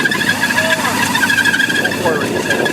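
A Honda quad engine binding up and straining during a rainy ride, a loud steady high whine with squealing over it, heard close, with people talking and shouting over the noise.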